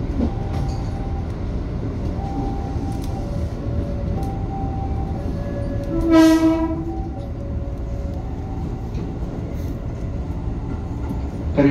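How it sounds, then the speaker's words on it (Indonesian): KRL commuter train on the Solo–Yogyakarta line, a JR 205 set, arriving at Yogyakarta station, with steady rumbling rail noise, low hum and a short horn blast midway, heard from inside the cab. "Kereta dipersiapkan masuk di jalur 2 stasiun Yogyakarta."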